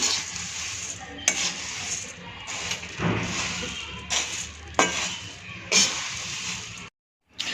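Puffed rice with flattened rice being stirred while roasting in a pan until crisp, heard as steady dry rustling and scraping with repeated louder clinks of the spoon against the pan, close and continuous.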